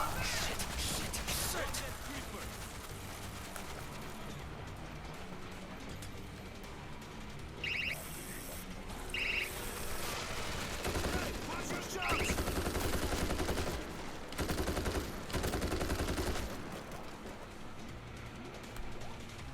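Gunfire in the zombie shooter World War Z, Moscow level: dense bursts of weapon fire and crashing impacts in a chaotic, loud mix that swells and drops, with short sharp high-pitched accents.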